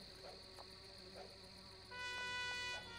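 Buzzing wasp in The Simpsons: Hit & Run video game, a faint steady insect drone with a brief louder tonal whine toward the end, heard alone without talk.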